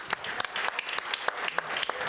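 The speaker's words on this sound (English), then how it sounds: "We owe them a big round of applause." An audience applauds first responders, law enforcement and firefighters at a sports event, with sharp, brisk claps forming a lively burst of clapping that runs the whole moment.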